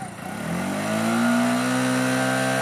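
A Bajaj Pulsar 200NS motorcycle engine revs up close and loud, its pitch climbing and holding steady at high RPM for a couple of seconds.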